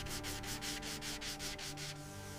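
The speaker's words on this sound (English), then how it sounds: "Fine sanding in consistent directions creates a uniform grain that will ensure the Cerakote." Fine sanding on the steel slide of a 1927 TT pistol, a steady back-and-forth rasp in about nine even strokes that stops near the end, leaving a faint background hum.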